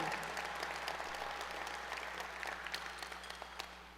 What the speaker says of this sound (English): let's give them a round of applause and a happy birthday.